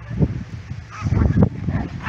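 Laika dogs tangle and scuffle outdoors, giving close, loud bursts of growling, barking and yips in uneven clusters.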